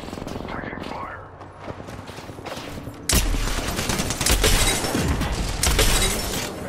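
Gunfire in the Apex Legends video game, with scattered shots at first and then a loud, sustained burst of rapid automatic fire and impacts in the second half.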